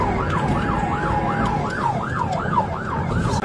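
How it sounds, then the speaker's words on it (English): A police car siren wails in fast, regular up-and-down sweeps over road and engine noise during a pursuit of a stolen Kia in West Allis, Wisconsin. "Sirens on."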